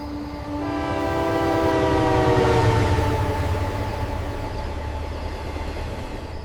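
A freight train whistle sounds in the dark, one long, loud, sustained horn blast over a low rumble of rail traffic that eases off gradually toward the end.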